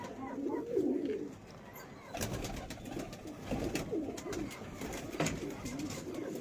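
Pigeons of a high-flying breed coo softly at close range, low murmuring calls recurring through the clip amid faint rustling and background noise.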